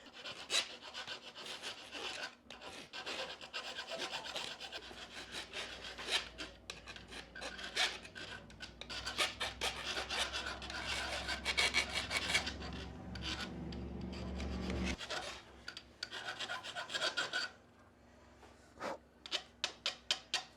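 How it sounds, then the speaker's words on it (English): Sharp metal edges of a cut golf club being filed down, a steady rasping scrape running back and forth almost continuously, close and loud, ending in a few separate short strokes. "we are going to try to get this a little bit filed down, just so that there's not any sharp metal around the edges"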